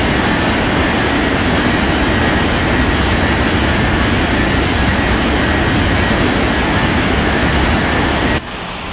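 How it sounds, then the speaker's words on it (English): Airliner engines roaring steadily as the jet takes off from a runway in an air traffic control video game, a loud, continuous broadband rumble that holds for nearly nine seconds before dropping slightly at the end. "Europa 2491 cleared for takeoff runway 32 left"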